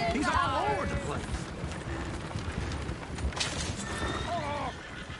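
Horses whinny loudly and repeatedly while hooves clip-clop underneath, with shouting voices mixed in over the commotion.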